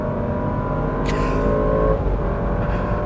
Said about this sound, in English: just let you hear the exhaust note a little bit more